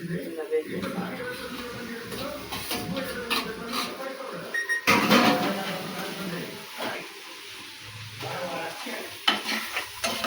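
Okra fries in a pan, an uneven sizzle with scraping stirs and spatula clatter, surging louder midway, while a voice talks over it.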